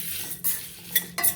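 Dried red chillies, cumin and coriander seeds stirred in a pan with a utensil, soft scraping with a few sharp clinks of metal against the pan, close and fairly quiet, brief with no talking.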